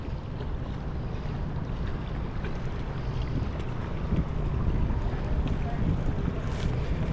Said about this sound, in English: That's a nice boat.